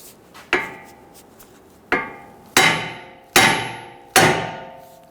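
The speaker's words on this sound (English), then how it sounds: "we're going to use our hammer and we're going to strike the control arm right here" Hammer striking the front control arm of a 2011-2023 Dodge Charger to free the ball joint: five sharp metallic clangs with ringing decay, the first lone and the last four in steadier succession, loud and close.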